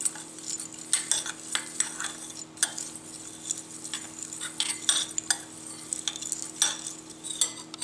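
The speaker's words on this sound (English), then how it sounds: "Let's mix that together with a spoon, so it's easier." A spoon stirs a chocolate and nut mixture in a bowl, close scraping and clinking strokes repeating in an uneven rhythm over a low steady hum, with no talk.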